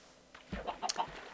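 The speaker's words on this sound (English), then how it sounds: "Alright, there's a chicken." A Minecraft chicken gives a few quick, close clucks in a short burst over quiet game background.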